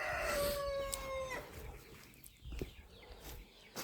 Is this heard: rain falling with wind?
no